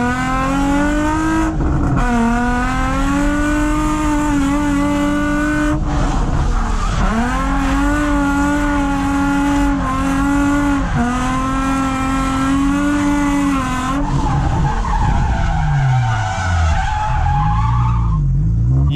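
A car drifts sideways on a race track, its tires squealing and skidding continuously while the engine revs up and down loudly and close by, with a shift in pitch near the end.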